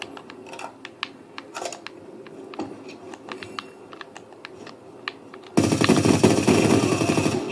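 Call of Duty gunfire: rapid sustained bursts burst in loudly over the last two seconds, after a stretch of sharp clicking and scattered taps, with no talk.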